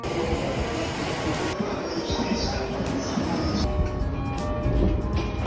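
A train rolls along a line toward Saitama, Japan, giving a steady rumble of wheels and carriage noise with faint squealing tones and brief voices in the background.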